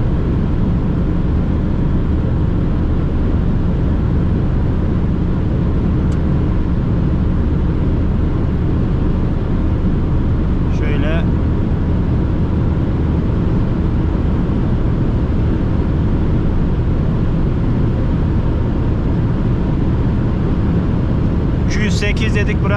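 Fiat Egea 1.4 Easy Plus driving at over 200 km/h on an open road, a loud, steady roar of wind, tyres and engine heard from inside the cabin, with brief faint clicks.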